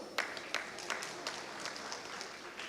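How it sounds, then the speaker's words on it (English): Sparse, faint applause rings out at a youth conference in Kaduna State for Mr. King Mukhtar Saliu, standing in for the community leader, the King of Bomo, with scattered claps at a steady, unhurried pace. "Please, a round of applause."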